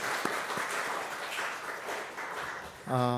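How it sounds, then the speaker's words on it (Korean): A church congregation at a Sunday service claps to welcome a visiting missionary, a steady wash of applause that fades before a voice begins at the very end. "우리 박수로 한번 환영하도록 하겠습니다"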